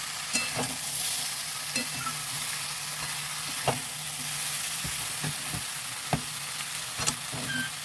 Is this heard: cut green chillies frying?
yes